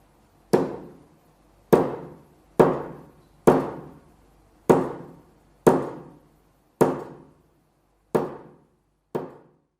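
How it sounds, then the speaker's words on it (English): Chasing hammer tapping a small steel punch on sheet metal for jewelry saw piercing, nine sharp, evenly spaced metallic taps with short decays, close and alone. "Use your chasing hammer to tap on top of the punch"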